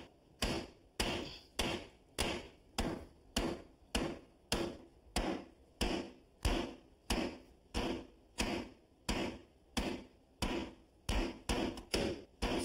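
A jack stud is hammered up under a beam while an interior wall is removed, with about twenty sharp, steady wooden knocks at a regular beat, close and clear, and no talking.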